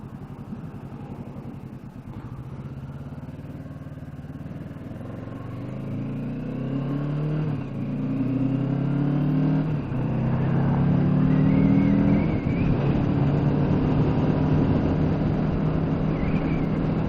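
A 2017 Kawasaki Ninja 650 motorcycle under way, engine note climbing through rising revs as it accelerates, with steady wind rush throughout and loudest near the end.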